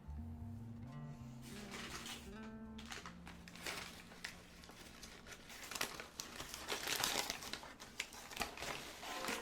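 Paper crinkles and crumples as purchased wares are unwrapped, a continuous close rustling with sharper crackles, fairly quiet, with no talk.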